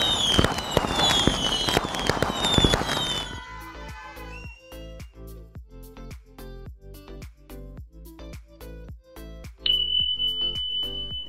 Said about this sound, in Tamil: கிராக்கர்ஸ்லாம் வெடிச்சு பயங்கர சவுண்ட் போயிடுச்சு.